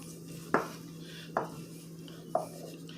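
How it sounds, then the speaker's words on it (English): Three separate clinks of a utensil against a bowl come through while yeast-free pizza dough is mixed, evenly spaced over a low steady hum, close and without talk. "As you're mixing, nothing's sticking to the bowl."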